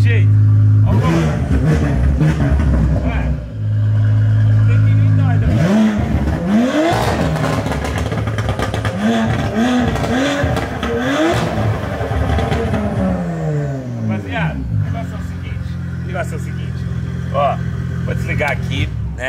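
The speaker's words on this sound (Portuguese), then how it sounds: "Ó o motor." Porsche Panamera engine revving repeatedly, loud rising and falling sweeps after an idle, with someone talking over parts of it.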